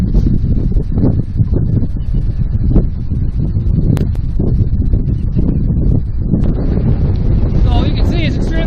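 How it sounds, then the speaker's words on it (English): Strong wind on a river buffets the microphone, a steady loud rumbling roar that runs nearly the whole time, with faint water and boat sounds beneath it. "So you can see it's extremely windy out."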